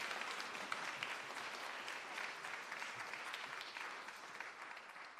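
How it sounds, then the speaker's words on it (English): Sustained applause from an awards ceremony audience for a winner, steady and dense clapping filling the whole stretch at a moderate distance, with no talking. "Big round of applause for our first winner."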